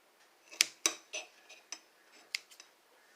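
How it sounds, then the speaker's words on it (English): Scissors cut through a well-done New York strip steak, producing a handful of sharp, separate snips and clicks at irregular intervals, quiet and close, with no talking. "I like to cut mine with the scissors."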